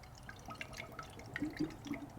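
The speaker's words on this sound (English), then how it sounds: "We got a little coolant coming out" Coolant trickles out of a Toyota Prius engine as it is topped off, soft irregular drips and splashes of liquid heard close and quiet, with no talk.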